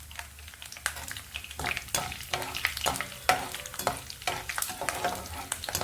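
Mustard seeds and cumin sizzling in hot oil in a pan, a close crackling fry broken by frequent stirring scrapes and small pops, steady and moderately loud with no voices.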